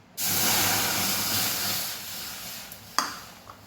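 A sudden loud hiss and sizzle as water is poured into a hot wok for boiling vermicelli, easing gradually, followed by a sharp metallic clink.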